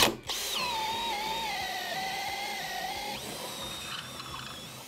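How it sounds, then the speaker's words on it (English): A drill spins an Irwin Tri-Flute speed bore bit through wood with a steady, whirring, slightly wavering whine that shifts pitch partway through and then trails off, heard alone without speech. "Now this is the Irwin Tri-Flute speed bore."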